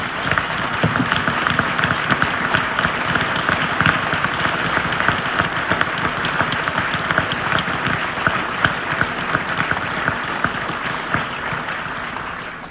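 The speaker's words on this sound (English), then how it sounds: "If anyone would stand up and just give everyone a round of applause." An audience at a Ford GT rally panel applauds the Ford GT development team, a dense, steady clatter of many clapping hands that stays loud and even for about twelve seconds with no talking over it.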